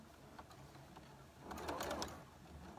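A home sewing machine stitches a straight quilt seam for a triangle-block quilt, a soft low mechanical whir that swells in the second half with faint rattling clicks, steady and close with no talking.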